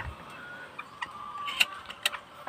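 A Serama bantam rooster in a cage at a poultry farm gives soft, scattered clucks and short calls over a faint background, fairly close but quiet, with no talking.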